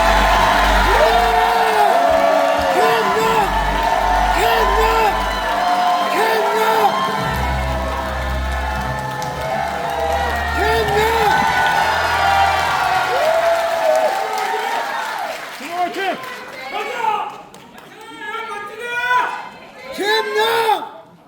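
A party convention crowd cheers, whoops and applauds loudly to welcome a candidate taking the stage at a leadership rally in a convention hall, with a dense roar under a booming amplified announcer's voice and music-like tones before the din fades.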